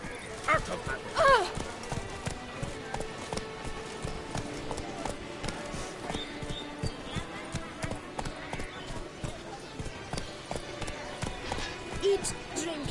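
Roach, a horse in a video game, gallops with quick, steady hoofbeats that pound on without a break, while a voice talks over the rhythm.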